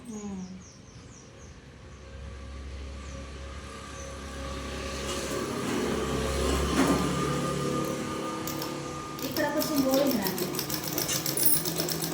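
A new sewing machine stitches fabric with a steady mechanical whir that rises and speeds up toward the end, while a person talks over it throughout.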